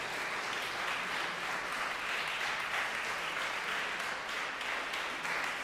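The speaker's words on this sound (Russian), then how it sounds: "я прошу продолжить свои аплодисменты" A concert hall audience at a college performance keeps up steady applause, even and continuous but fairly quiet, with no other sounds standing out.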